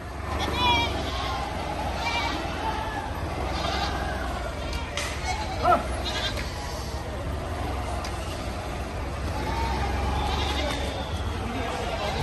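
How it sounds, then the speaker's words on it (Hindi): Goats bleat repeatedly in a crowded livestock market at Deonar, Mumbai, with trucks and a constant murmur of people talking in the background. "ये देखो सब ऐसे बकरे।"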